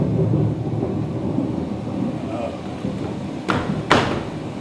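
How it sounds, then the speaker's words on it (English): A thunderstorm at night: a steady low rumble with rain-like hiss throughout, then two sharp, loud thunder cracks close together near the end. "This is a stormy night!"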